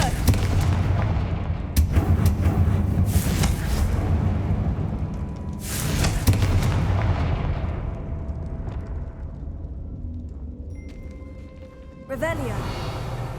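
Confringo fire-spell blasts in the Hogwarts Legacy video game, with several loud booming bursts at the start and around the middle, each decaying into a rumbling tail over continuous game ambience, then a sharp magical burst near the end.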